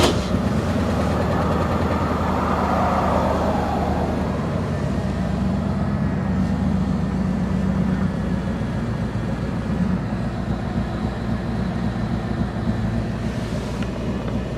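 A Jeep Grand Wagoneer engine running cold in a shop, a steady, loud, low droning rumble that holds evenly throughout without pauses.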